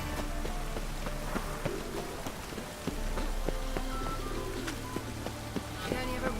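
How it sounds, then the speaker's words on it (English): Rain falls steadily in The Witcher 3: Wild Hunt, a soft, even patter of drops on surfaces, faint and continuous, with scattered small clicks and taps mixed in and a voice speaking briefly. "It only ever rains these days."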